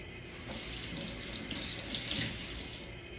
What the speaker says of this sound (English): I'm going to rinse my hands off here